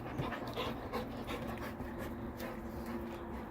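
Two dogs panting on a porch, quick rhythmic close breaths with light rustling movement, steady and fairly soft.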